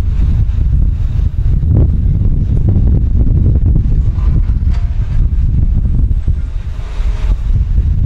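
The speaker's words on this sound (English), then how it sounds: "Wind here today is cutting me up." Loud wind gusts across the Blackpool seafront, battering the microphone with a constant deep rumble and broadband hiss that swells and dips slightly, with no speech over it.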